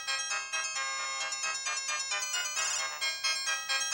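A phone ringtone for an incoming call from the office plays a bright, repeating electronic melody, fairly faint and steady in rhythmic bursts, with no talking.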